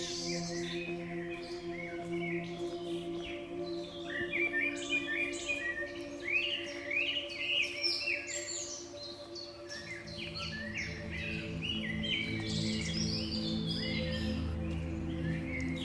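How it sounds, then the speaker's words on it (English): Several birds chirp and trill in a jungle in quick overlapping bursts over a constant low drone, a lively chorus of varied calls at a moderate distance. "we can hear the birds"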